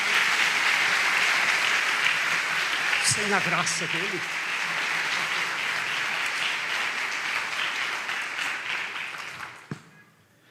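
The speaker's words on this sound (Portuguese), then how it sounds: "Aplauda ao Senhor." Congregation applauding during a Catholic Mass homily at a parish church, steady moderate clapping from many people throughout, with a voice speaking briefly over it before it trails off.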